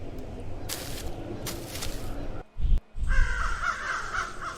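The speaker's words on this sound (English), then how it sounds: "Crow." A crow caws in a video game set on a deserted island, two broadband bursts of cawing standing out over a steady ambient game background, followed by a brief thump and a higher tonal texture.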